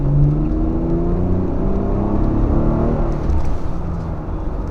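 A 2019 Lexus RX 350 accelerating along an open road, heard from inside as a steady, loud engine drone with rising tones and road rumble, no talking.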